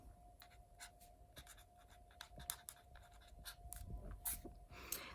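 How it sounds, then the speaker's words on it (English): A pen or pencil sketches a straight line by hand, giving soft, quiet scratching strokes in an irregular rhythm over a faint steady hum. "I'm just going to kind of sketch it in here"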